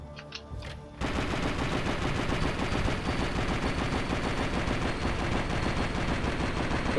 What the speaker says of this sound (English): But what would slow-mo look like with the MG42?